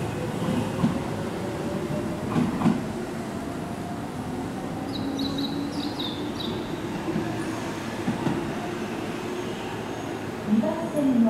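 A Keihan electric train rumbles at a station platform, a steady mechanical drone with faint squeals and clicks over the full stretch, while a platform announcement plays faintly beneath.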